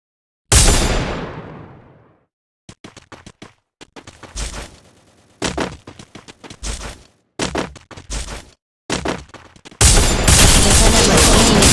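Gunfire from a shooter video game crackles in a loud opening blast, then rapid bursts of shots in uneven clusters, ending in a sustained heavy volley.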